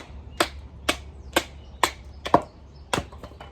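Sharp, separate chops from a Kabar knife blade biting into wood, about seven close, loud strikes at a quick, uneven rhythm with no talking.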